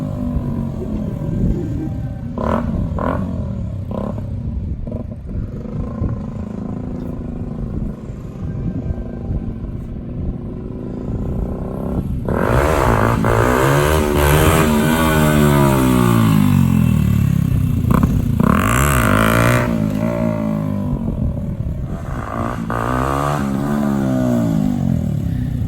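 Yamaha WR125 and YBR125 125cc motorcycles revving hard during wheelies, with loud, rising and falling engine whines that sweep up and down as riders pass close by, outdoors.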